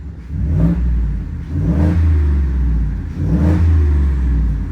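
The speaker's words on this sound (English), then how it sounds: "I can't really rev this thing up" A Ford F150 with an S&B cold air intake revs in neutral, three loud close rises of engine roar with a rumbling idle between them and no speech.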